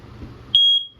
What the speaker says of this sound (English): That guy detects it and starts going off just like a smoke detector would